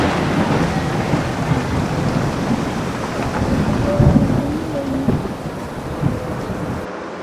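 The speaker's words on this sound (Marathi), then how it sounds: "पाऊसही खूप मस्त चालू आहे" Heavy monsoon rain pours steadily outdoors at a home, a dense continuous hiss with low rumbles of thunder rolling underneath, loud and close throughout.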